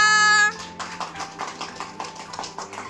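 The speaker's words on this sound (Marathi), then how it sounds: "टाळ्या" Women applaud at a haldi-kumkum gathering, a run of quick close handclaps after a short sustained tone at the start.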